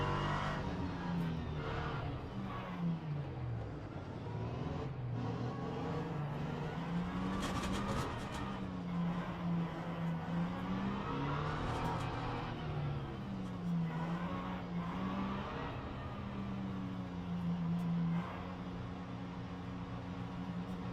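An LMP3 race car is heard onboard at Sebring while warming its brakes, its engine note rising and falling in repeated revs and gear changes, loud, close and continuous, with no talk.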